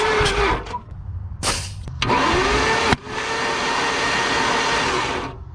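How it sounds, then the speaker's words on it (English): Air rushing out of a spark plug hole in an abandoned Mustang GT V8 engine, a loud steady hiss broken by a few sharp bursts and thumps early on, then holding constant. "It just blew out of the spark plug hole."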